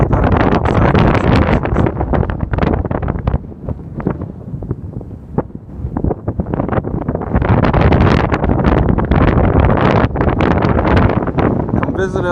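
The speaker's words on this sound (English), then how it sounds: "The wind kicking up the snow" Strong wind sweeps over frozen Lake Nosbonsing, loudly buffeting the microphone in a continuous roar that dips briefly midway, then surges again in gusts.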